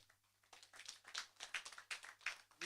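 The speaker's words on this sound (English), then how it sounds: "As we send him off, can we clap for the manager?" An audience at a Uasin Gishu talks-series meeting claps for the manager, a quiet, scattered round of hand claps in uneven bursts, faint and somewhat distant.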